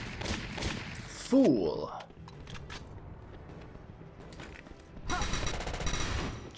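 Gunfire from the Valkyria Chronicles video game: dense bursts of rapid shots crackle at the start and return loudly near the end. A quieter stretch in the middle is broken by scattered pops, and a brief voice line cuts in.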